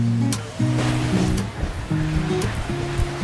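Ocean surf in Hawaii washes in a continuous, loud rush close by, while voices or tonal sounds rise and fall intermittently over the breaking water.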